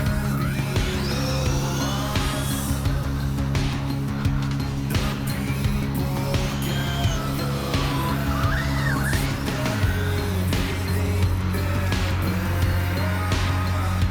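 An RC10T radio-controlled car driving fast outdoors, a whining electric motor hum that rises and falls in pitch as it speeds around, with scattered bumps and a steady drone beneath.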